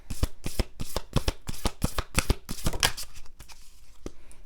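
Moonology oracle cards shuffled by hand in quick, rhythmic bursts of riffling and slapping, about a dozen crisp close strikes that slow and fade toward the end.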